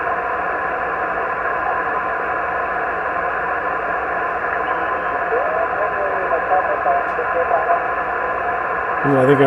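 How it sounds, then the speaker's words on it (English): An amateur radio receiver hisses with steady static while a faint, garbled voice calling CQ for Parks on the Air comes through the noise, continuous throughout. "Ooh, I think I heard CQ POTA."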